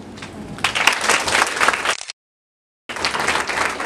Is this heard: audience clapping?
yes